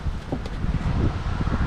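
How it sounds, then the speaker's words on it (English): Steady wind on Lake Ontario buffets the microphone with a low, continuous rumble, rising and falling slightly throughout the short stretch. "It's windy."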